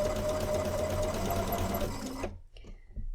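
A sewing machine runs in a steady, fast whir while stitching a curved fabric seam, then stops abruptly, leaving a few faint clicks and handling noises.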